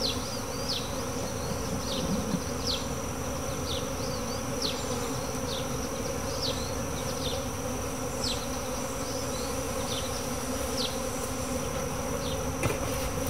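A steady, dense buzzing of many honeybees around hive frames fills the air continuously, with a constant hum and occasional brief higher-pitched whines passing close, in a laying-worker colony.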